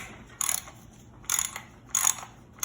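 A ratchet unscrews aluminum access covers on the cylinder heads of a 2.7-liter Dodge/Chrysler engine, giving close, crisp bursts of rapid clicking in an even rhythm of four strokes with short pauses.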